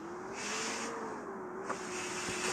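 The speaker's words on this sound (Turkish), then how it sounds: "Otobüsün ses çok güzel ya." Bus engine in the game Bus Simulator Ultimate, a steady, smooth hum with a slowly rising and falling pitch as the vehicle pulls away, with a faint airy hiss on top and no talking.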